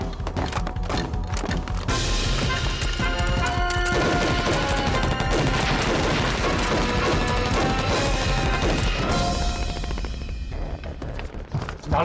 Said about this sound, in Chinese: 哪来的枪声？